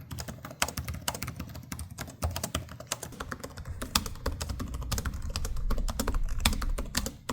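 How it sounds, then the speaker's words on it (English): Rapid typing on gaming laptop keyboards (MSI Stealth A16 and Asus Zephyrus G16), a close, continuous stream of light clicky keystrokes with no voices. "they both have very satisfying keyboards for typing"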